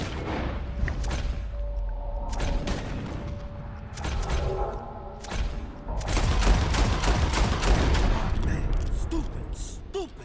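Gunshots fired at birds in Red Dead Redemption 2, a series of sharp booming reports spaced across the stretch, some in quick clusters, loud and close over ambient game sound and talk.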